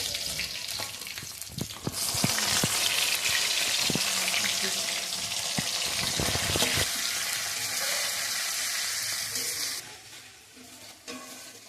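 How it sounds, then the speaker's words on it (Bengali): Pieces of chicken frying in hot oil for chilli chicken, a loud steady sizzle with occasional stirring clatter and pops, in a home kitchen with a faint voice in the background. "চিলি চিকেন হবে, তো তার জন্য যে চিকেনগুলো ফ্রাই করে নেওয়া হচ্ছে"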